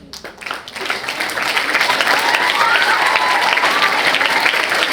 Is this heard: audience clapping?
yes